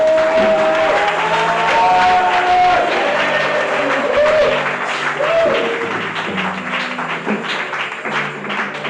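A church congregation claps and acclaims the Lord, with a crowd applauding together and raised voices carrying over the clapping.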